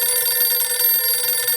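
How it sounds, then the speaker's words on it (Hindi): A telephone rings in a household sitcom scene, an electronic trilling tone pulsing rapidly and steadily, loud and close with no voices over it. "ओह, फिर से फोन।"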